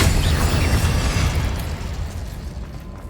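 A loud, roaring Incendio fire spell blast erupts in Hogwarts Legacy, a booming burst that slowly fades over a few seconds, with no voices.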